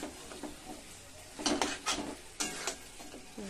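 Onion and chicken stirred together in a hot pan, with a steady sizzle and several bursts of scraping as the spoon moves through the mixture, close and fairly loud.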